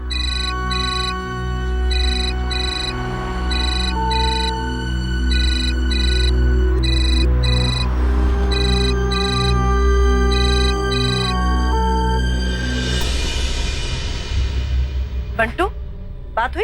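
A phone's electronic ringtone repeats in steady bursts over a sustained background music bed, with the call left unanswered throughout.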